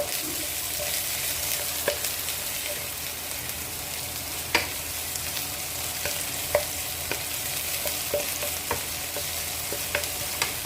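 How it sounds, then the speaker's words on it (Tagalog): Onion stir-fries in a hot pan for a simple chicken stir fry, with a steady sizzle throughout and a spatula scraping and clacking against the pan at irregular moments. "Lagay ng sibuyas. Haluin."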